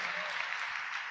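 A congregation at a church meeting claps hands together in a brief, dense burst of applause, with a voice faintly audible among it.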